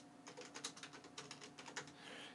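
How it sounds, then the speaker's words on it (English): Faint, close key clicks as a message is typed on a computer keyboard, a quick irregular run of soft taps lasting a couple of seconds with no speech. "Then you type your message here"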